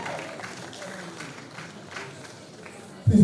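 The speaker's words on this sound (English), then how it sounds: "A round of applause for us." A modest round of applause from an audience at a panel session on moving from academia to industry, fairly soft scattered clapping that fades, followed by a sudden louder bump at the end.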